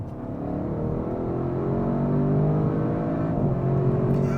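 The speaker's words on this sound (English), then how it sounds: "opens the baffles in the exhaust, permitting more of that V8 animation to pulse the air" An Audi RS6 Performance wagon's V8 exhaust, baffles open, revs and builds in a rising, rumbling drone with steady engine harmonics, heard close from inside the car with no talking.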